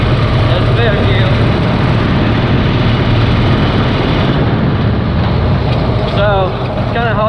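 A Cushman Truckster engine runs steadily in third gear, a loud, continuous droning rumble close by with no break in the sound.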